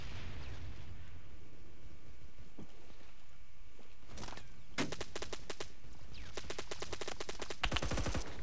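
Rapid bursts of video game gunfire from a short-range gun crack out in dense volleys, sparse at first and then rattling in long fast strings, loud and close.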